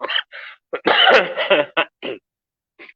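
A series of short coughs and throat-clearing bursts, close and fairly loud, with brief pauses between them and a longer rough burst in the middle.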